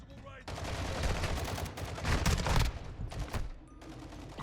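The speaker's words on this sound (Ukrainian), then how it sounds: "То по мені стріляють" Gunfire in the video game Call of Duty DMZ rattles in rapid automatic bursts, loud and continuous with brief pauses between volleys.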